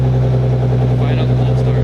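A Nissan GT-R tuned on E85 to over 650 horsepower idles loudly and steadily after a cold start, a deep continuous drone with no revving, and a voice talks over it.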